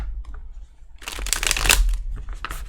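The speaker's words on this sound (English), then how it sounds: "I didn't like that shuffle." A deck of cards riffled in a quick burst of rapid flutter, close and crisp, alone with no talking.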